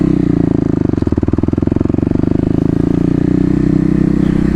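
Dual sport motorcycle engine under steady throttle during a second-gear clutch-up attempt, a loud, close, continuous throbbing drone with an even pulsing rhythm and no talk over it.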